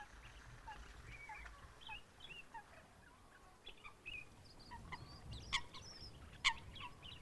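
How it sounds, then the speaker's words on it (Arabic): Assorted waterfowl and migratory birds such as coots, cormorants and ducks at a reservoir, with scattered faint calls and chirps over a low outdoor rumble, a couple of sharper calls standing out near the end. "محط أصناف كثيرة من الطيور المهاجرة كطيور الغرة والغاق والعفاس والبط"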